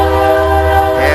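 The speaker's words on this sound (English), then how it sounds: "Here comes the train on that little railway line that runs right across the north of our field." A train on a small railway line running along a field gives a loud, sustained tonal horn-like drone with a steady low rumble, close by and unbroken for a little over a second.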